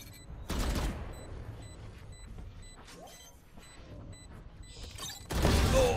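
Gunfire in the video game Valorant: two loud bursts of shots, one near the start and a heavier one at the end, separated by quiet game ambience and faint beeping.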